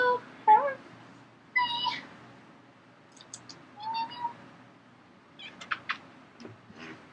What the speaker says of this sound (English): This is my kitten, Diva.